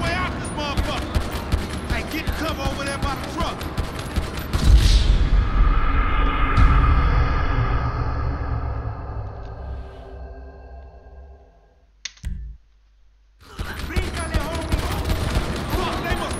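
Gunfire in GTA V with the chaos mod active, bursts of shots amid loud game noise under speech, a long ringing decay, then near silence before the action resumes.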